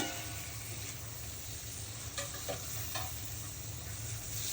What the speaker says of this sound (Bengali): এখন আমি আগে বেগুনগুলো কষিয়ে নিব